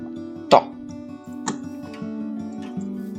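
Bucket scooping up lava in Minecraft, a sharp plop followed by a couple of softer pops over a steady background tone.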